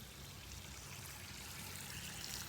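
Irrigation water runs steadily with a broad, even hiss and trickle, close and continuous, with no voices.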